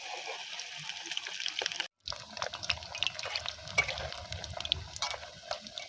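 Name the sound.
frying pitha (rice cakes) in hot oil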